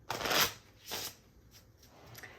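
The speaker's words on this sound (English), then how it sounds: "So I'm just giving a good shuffle," Two quick riffles of a deck of cards being shuffled up close, followed by softer flicks and taps of the cards.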